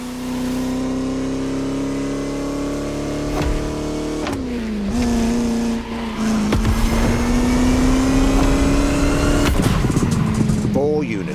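A vintage Bugatti in The Crew Motorfest racing game drives along French countryside roads, its engine a loud sustained drone that climbs through gears with brief dips at shifts, while a voice talks over it.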